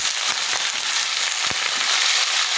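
Potatoes, cabbage and other vegetables with dried chili and five-spice seeds sizzle loudly in a hot pan, a dense, steady crackling frying hiss with a few sharper pops throughout.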